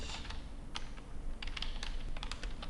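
Someone types code on a computer keyboard, irregular bursts of quick close key clicks with short pauses between them, alone without speech.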